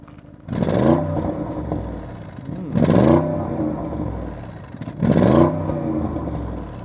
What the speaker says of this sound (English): And can we rev it in normal mode?